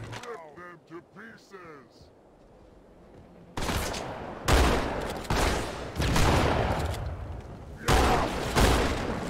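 After a few seconds of chatter-like game sounds and speech, loud gunfire erupts in the Halo 2 campaign, a series of heavy, dense bursts close together that carry on to the end.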